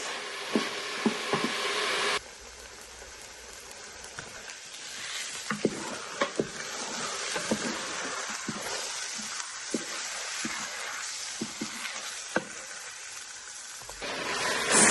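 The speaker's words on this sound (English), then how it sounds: "Now it's time to put the mashed potatoes inside of the pot." Leftover mashed potatoes are dropped into a pot and stirred for potato soup, giving soft scraping and sticky stirring clicks over a steady low sizzle, close and fairly quiet, with no talking.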